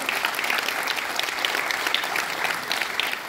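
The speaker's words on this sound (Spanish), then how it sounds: "Fuerte los aplausos para Luigi" A crowd at a Christmas food-basket handout event in Tierra Blanca applauds loudly and continuously, a thick sustained roar of many hands clapping with no break.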